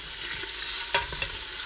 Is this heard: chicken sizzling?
yes